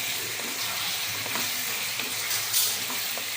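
Chicken masala with turmeric powder frying in a pan, a dense steady sizzle with soft scraping stirs and occasional brighter hisses, loud and close, no talking.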